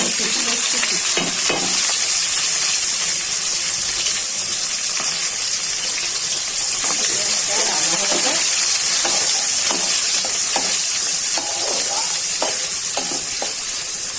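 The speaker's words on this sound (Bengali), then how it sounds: "পেঁয়াজটা ভাজা হয়ে গেছে" Steady, loud sizzling of onions frying in hot oil with sugar and cardamom, with occasional stirring scrapes and clinks throughout.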